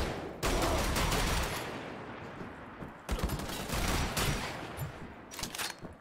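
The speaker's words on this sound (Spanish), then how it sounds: "El disparo secundario." Secondary-fire bursts of weapons in Wolfenstein: The Old Blood crack out in two heavy rapid volleys, loud and dense, with a pause between and scattered shots trailing after.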